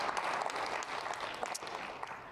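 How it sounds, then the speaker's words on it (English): An audience at a talk gives a warm round of applause, a steady wash of many hands clapping together without a pause, heard from within the room. "Big round of applause."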